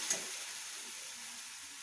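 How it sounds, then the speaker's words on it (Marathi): Spice masala being fried and stirred in a pan on a high gas flame gives a steady, soft sizzling hiss with one faint scrape near the start. "तर लाल होईपर्यंत आपण याला चांगला परतून घेऊ, हलवत राहू"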